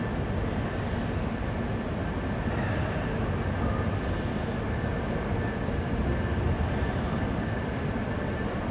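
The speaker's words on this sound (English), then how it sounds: "I'm gonna let this train pass. It looks like it's gonna leave here pretty soon." A train passes by a station on a snowy day at freezing temperature, giving a steady, loud, broadband rumble that holds for the whole stretch with no voices.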